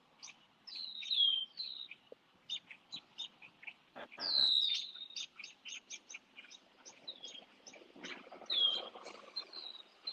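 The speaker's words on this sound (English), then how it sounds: "Oh, those birds are awesome. Lovely birds" Several birds chirp and sing in repeated bright bursts, with short sharp calls and longer warbling phrases spread through the stretch, fairly close and clear over a quiet background.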